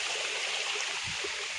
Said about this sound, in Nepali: यो चाहिँ हाम्रो माथि घरतिरबाट आएको पानी हो।